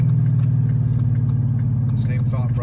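A 2015–2017 Ford Mustang GT V8 fitted with a Stainless Works catback exhaust, idling with a deep, even burble close by while someone speaks over it.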